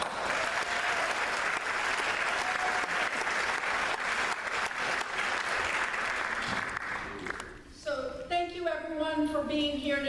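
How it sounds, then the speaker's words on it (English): An audience at a town hall meeting in a college venue claps steadily for about seven seconds, a dense and fairly close ovation that fades as a speaker begins talking. "Let's give her a big round of applause."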